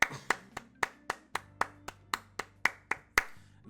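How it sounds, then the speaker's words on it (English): Rhythmic hand claps, about fourteen evenly spaced sharp slaps, close and fairly loud over a soft, steady low music bed, with no talking. "Clap it up again, ladies and gentlemen."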